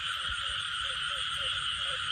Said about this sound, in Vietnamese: Em vừa phát hiện là cặp ếch đầu tiên cả nhà.